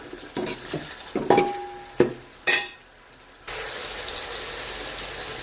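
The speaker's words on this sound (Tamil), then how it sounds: "தக்காளி நல்லா வதங்கி வரட்டும்." Tomatoes sauté in a pan for a pomfret fish curry, with a few sharp clanks and scrapes of stirring followed by a steady, close, hissing sizzle.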